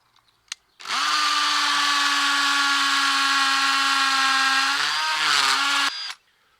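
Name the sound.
hammer drill drilling masonry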